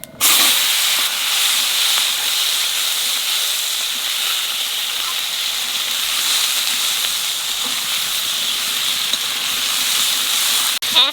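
Papaya pieces dropped into hot oil with cumin seeds and bay leaf, giving a loud, steady sizzling hiss that holds evenly for several seconds before cutting off.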